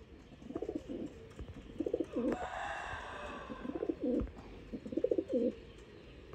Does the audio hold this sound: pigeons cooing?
yes